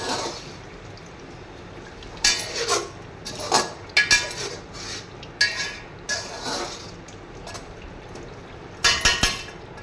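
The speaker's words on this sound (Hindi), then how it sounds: "ये पानी डालूँगी इसमें" Water poured into a pot of chicken being cooked for yakhni pulao, a steady wash of liquid under repeated sharp metallic clanks of utensils against the cookware.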